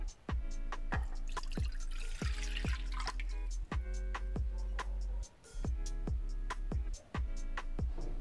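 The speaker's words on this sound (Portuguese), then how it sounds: "Agora a gente vai colocar água" Water poured into a mug for cleaning Nike Air Max 97 sneakers, heard close and quiet as a steady series of distinct drips and plinks, roughly evenly spaced, with a brief splashier pour partway through.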